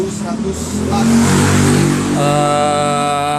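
A stock-engine Honda CRF150L with an RV1 exhaust, its ECU remapped to rev to 11,000 RPM with custom fuel and ignition advanced one degree, revs up sharply and then holds a steady, rising whine, loud and close.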